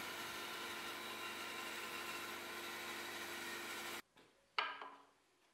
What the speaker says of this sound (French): Je profile un premier bras à la scie à ruban